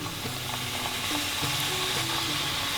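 A strip of fazuelos dough frying in oil in a pan while a fork presses it down, giving a steady close sizzle with small scraping taps over it.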